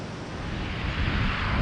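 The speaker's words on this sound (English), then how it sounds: "Very windy." Steady wind on a beach at high tide in Thailand rushes and buffets the microphone in a broad, rumbling roar, with no voices.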